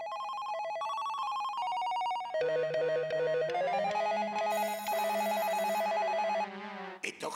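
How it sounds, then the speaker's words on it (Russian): A telephone rings in a cartoon scene with a bright, repeating electronic melody that plays continuously and loudly, shifting to a lower register partway through before cutting off with a brief clatter at the end. "Звонок оттуда! У тебя звонит?"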